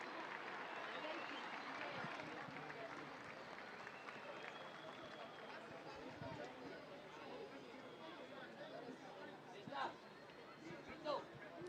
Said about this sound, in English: Crowd getting vocal as the team leads as well, appreciating that last try by Joaquin Tuculet